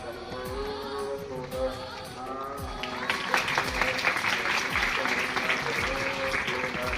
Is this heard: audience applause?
yes